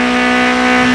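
A race car's engine revs loudly in the off-road racing game DIRT 5, a steady, sustained high-pitched drone that rises slightly toward the end, with no talk.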